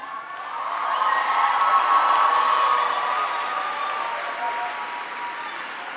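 Treasure Coast High School's class of 2018 graduation crowd breaks into sustained applause with some cheering, rising over the first seconds, peaking, then slowly tapering while continuing steadily.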